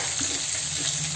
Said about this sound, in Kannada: ಸೊ ನೀಟಾಗಿ ಫ್ರೈ ಮಾಡ್ಕೊಳ್ಳೋಣ.